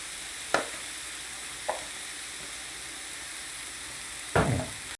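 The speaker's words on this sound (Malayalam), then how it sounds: "ഒരു പാൻ വെച്ച് കൊടുത്ത് അതിലേക്ക് അല്പം ബട്ടർ അതിലേക്ക് ഇട്ട് കൊടുക്കാം" Butter sizzling in a pan as masala for butter chicken gets started: a steady soft hiss throughout, with a few brief clinks or stirs and a louder burst of sizzle near the end, no talk.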